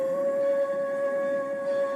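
A pitched-up vocal sample plays dry, without any plate reverb, as a steady sustained tone holding one pitch alone for a brief moment.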